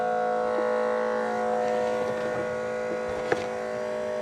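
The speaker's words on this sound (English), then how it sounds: "Blow-off valve is leaking." Air hisses and whines from a leaking blow-off valve on a turbocharged Subaru Forester, heard as a steady tonal drone over the idling engine hum, with one brief sharp tick near the end.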